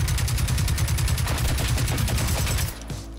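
Dense, rapid automatic gunfire from the survival shooter game Generation Zero rattles loud and close in a steady burst for most of the moment, then cuts off near the end.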